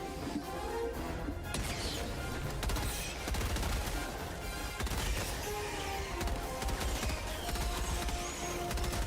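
Sentry turret gunfire in Helldivers 2 video game, a dense, continuous loud barrage of shots and crashes with explosions mixed in, filling the whole stretch without letup.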